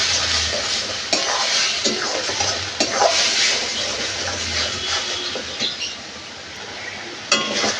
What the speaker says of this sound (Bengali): আর দিয়ে দেবো হলুদ গুঁড়ো, ধনিয়ার গুঁড়ো আর জিরের গুঁড়ো। এগুলো ভালো করে কষিয়ে নেব।